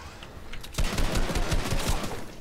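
A turret in Fortnite fires a rapid, rhythmic run of sharp shots at close range, each crack hitting hard in quick succession after a quieter lead-in.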